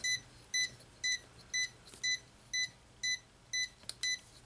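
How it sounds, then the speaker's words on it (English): A repeated electronic load beep, steady short tones about every half second, fairly loud over a faint background hum. "Of course you're going to beep again."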